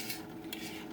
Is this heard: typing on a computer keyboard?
no